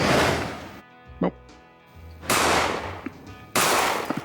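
Gunshots in the game One More Shot land as three heavy, sharp blasts spaced about a second apart, each loud and close with a quick decay, with a few small clicks in the quiet gaps between them.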